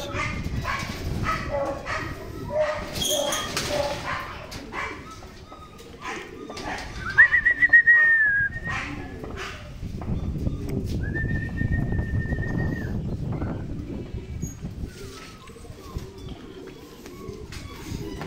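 Racing pigeons arriving at a loft during a derby race in San Narciso, Quezon, with rustling, flapping and cooing close by, a couple of drawn-out whistles, dogs barking and someone talking throughout.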